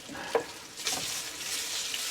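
Food sizzles steadily in a hot pan on a stovetop with the heat just turned down, giving a continuous close crackle with a couple of sharper stirring clicks near the start.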